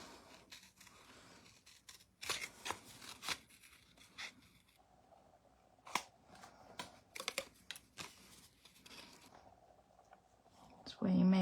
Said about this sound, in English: So I'm just going to snip them out.